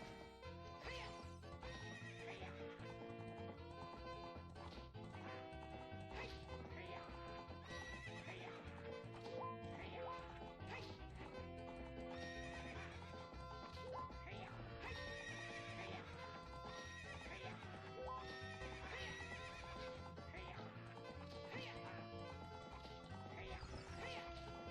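In the video game Zelda Ocarina of Time, the mare Epona neighs and her hooves clip-clop, loud and steady under continuous game music with no talk.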